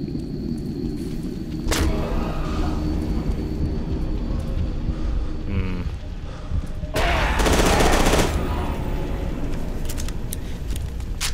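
Gunfire in the shooter game FEAR 2, with loud bursts of automatic fire and sharp blasts over a dense rumbling game soundscape, close and continuous, no talking.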